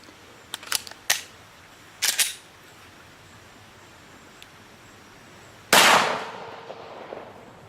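One loud, sharp gunshot fired with RIP ammo at a barrel outdoors, with a short decaying tail after it and a few light clicks and handling sounds before the shot.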